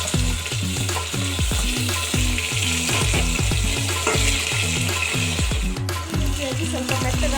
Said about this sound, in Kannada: ಹೆಚ್ಚಿಟ್ಟುಕೊಂಡಿರುವ ಟೊಮಾಟಿಯನ್ನು ಹಾಕಿ ಚೆನ್ನಾಗಿ ಫ್ರೈ ಮಾಡಬೇಕು.